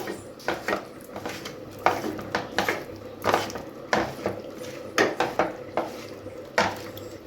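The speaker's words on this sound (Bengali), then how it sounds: "এবার পুরো জিনিসটাকে হাত দিয়ে এভাবে মাখিয়ে নেব।" Sliced ridge gourd being mixed by hand with mustard oil in a bowl, giving a run of soft wet squelches and light clinks against the dish, close and fairly quiet with short pauses between strokes.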